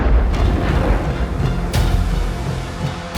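The Chernobyl reactor blast is rendered as a deep, rumbling explosion effect, with heavy low booms rolling on and a sharp burst of impact standing out midway, loud and without speech.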